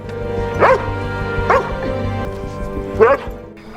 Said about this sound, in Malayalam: ശക്തമായി കുരയ്ക്കാൻ ആരംഭിച്ചു